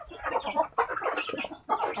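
A chicken clucks in quick, close bursts while it feeds, three rapid runs of soft calls separated by brief pauses.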